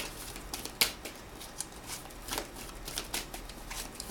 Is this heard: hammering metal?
no